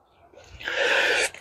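A person sneezes outdoors during fallen-tree removal work. It is a single close, loud burst that builds from a sharp inhale, with no talking.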